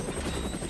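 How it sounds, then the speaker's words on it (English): An armed Leonardo AW109 LUH light utility attack helicopter produces a steady, loud rotor drone with a continuous turbine whine, with no pauses through the brief stretch. "Leonardo AW109 LUH, armed, Italy. Light utility attack helicopter, ideal for reconnaissance and rapid strikes."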